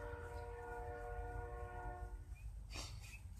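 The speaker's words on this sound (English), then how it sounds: "Apologize about the train going by." A passing train rumbles low and steady with a sustained tonal horn or whistle drone, then brief higher squeals, heard indoors at a moderate distance with no talk.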